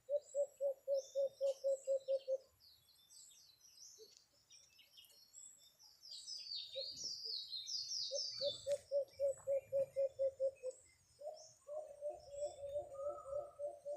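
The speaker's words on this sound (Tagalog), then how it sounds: "Diyan mga birds" Birds call in a forest during a hunt, with a loud series of rapid, evenly pulsed coos repeated in bursts and faint chirps and twitters scattered around them.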